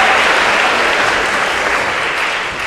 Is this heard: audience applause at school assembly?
yes